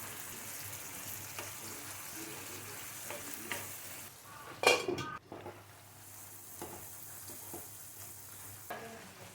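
Prawns stir-frying in a pan with spices, garlic and onion paste and a little water, a steady low sizzle with scraping spoon strokes and a sharper clatter midway, no talk.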